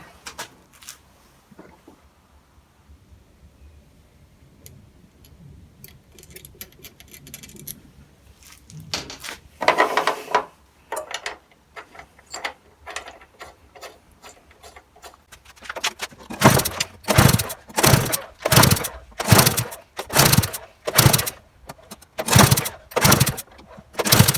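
A broken lawn mower engine bought on eBay being pulled to start: quiet clicks and fiddling, then a series of loud rhythmic pull-cord cranks with sputtering bursts that never settle into running, close to the microphone.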